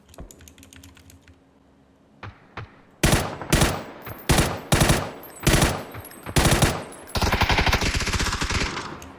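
Gunfire in the video game PUBG: several loud close bursts of automatic fire in quick succession, ending in a sustained spray. Keyboard clicks are heard faintly before the shots.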